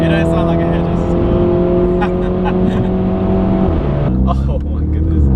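A Mini Cooper JCW (F56) engine and exhaust drone loudly and steadily from inside the car, with a shift in pitch as the revs drop and climb again, while someone talks over it.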